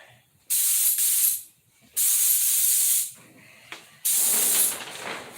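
A paint sprayer with no paint coming out hisses in three loud, steady bursts of about a second and a half each, separated by quiet gaps, close to the listener.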